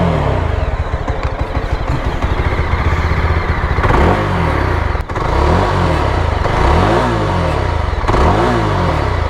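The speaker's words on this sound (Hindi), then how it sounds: "ऐसा कुछ एग्जॉस्ट का इसका साउंड है" A Yezdi Scrambler motorcycle's exhaust rumbles loudly and close, idling with a steady beat and then repeatedly revving up and dropping back in several throttle blips, with no voices.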